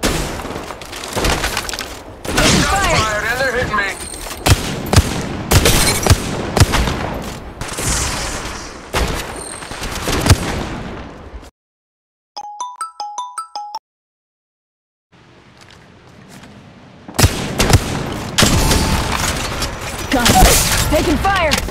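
Loud, dense automatic gunfire in Apex Legends Mobile, with rapid volleys and glassy crack hits, then a brief quiet gap with a small chime before the shooting resumes heavily, with no speech over it.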